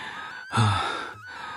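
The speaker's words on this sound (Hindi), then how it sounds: "आदमी हांफते हुए बोतल पकड़ता है।" A man pants and gasps for breath, one sharp heavy inhale followed by a drawn-out exhale, close and alone with no words spoken.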